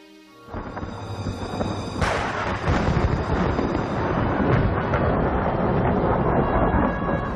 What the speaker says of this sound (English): A fierce storm was brewing, and Primrose was lost and alone.